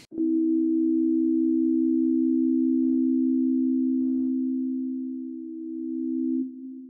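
A steady, pure sustained tone in perfect tuning, a smooth loud hum held for about six seconds with a few faint clicks underneath.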